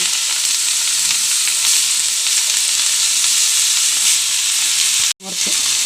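Spinach being stir-fried in hot oil with mustard seeds and a dried red chili, a loud continuous close sizzle and hiss that cuts off abruptly near the end, then resumes more faintly.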